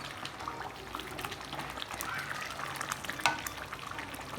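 Paneer kurma gravy bubbles in a pot with a soft, steady crackle and scattered pops at low volume, with no voices.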